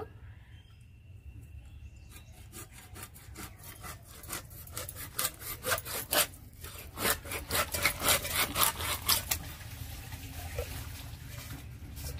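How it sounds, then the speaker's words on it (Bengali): A bhetki fish is cut up with a knife close by, giving a run of rough rhythmic scraping and sawing strokes through flesh and bone that grow louder and faster in the middle, without any talking. "এবার মাছটা কেটে নেব।"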